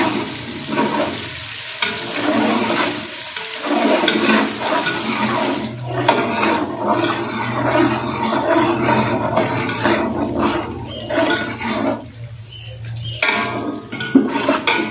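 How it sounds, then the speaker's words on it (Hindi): A coarsely pounded garlic and ginger paste fries in a pot for Arabian kabsa, giving a steady, fairly loud sizzle with occasional stirring and clanks of the pot throughout. "अब हम इसके अंदर डालेंगे ये लहसुन और अदरक का कुटा हुआ पेस्ट, दरदरा किया हुआ।"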